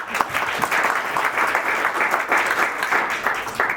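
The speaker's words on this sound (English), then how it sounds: "Just applause for that to all of you." An audience at a holiday social gives continuous applause, dense and even in level from start to finish, with no voices standing out above the clapping.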